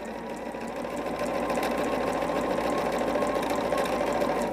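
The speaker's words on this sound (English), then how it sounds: "I'm almost done sewing these half square triangles together" A sewing machine runs continuously, joining half square triangles for a patchwork quilt, with a close, steady whirring hum and rapid needle patter that grows slightly louder after the first second.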